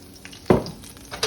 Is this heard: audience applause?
no